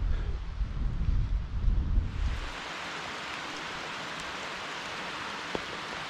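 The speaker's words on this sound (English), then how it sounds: "The rain is on and it's making these rocks really slippy." Gusty wind rumbles against the microphone on a rocky Scottish mountain, then gives way to a steady hiss of rain falling all around.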